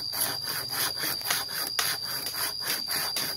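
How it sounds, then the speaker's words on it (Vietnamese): A hand saw cuts through wood in the forest with steady back-and-forth rasping strokes, about three per second, close and alone. "Lại cưa cái coi nó mỏi tay quá."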